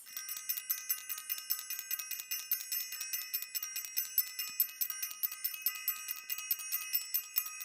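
A bell rings rapidly and continuously, a bright, high metallic ringing repeated in quick strokes, steady and loud throughout with no voices.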